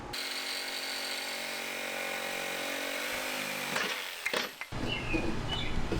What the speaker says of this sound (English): I can take a jigsaw with a metal blade to and hopefully cut the aluminum as straight as possible